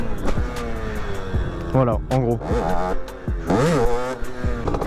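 A 50cc motorcycle on its stock setup revs hard at full throttle for a wheelie, with sweeping rising and falling engine pitch in repeated bursts, loud and close, with someone talking over parts of it.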